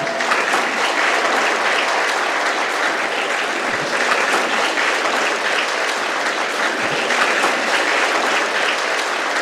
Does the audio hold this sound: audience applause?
yes